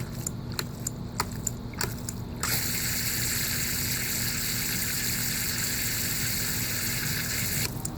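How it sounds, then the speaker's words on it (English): A homemade hydraulic ram pump built from hardware-store parts gives a run of sharp metallic clacks as its valve slams and water hammer strikes, then settles into a steady rushing water sound, close and moderately loud. "as soon as it gets close to closing, the valve slams shut and the water hammer strikes and it happens again"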